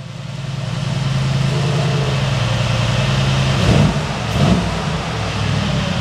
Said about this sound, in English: a very aggressive, kind of very masculine sound to it, a very aggressive roar to it